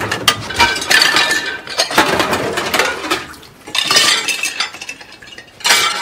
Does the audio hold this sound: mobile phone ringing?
no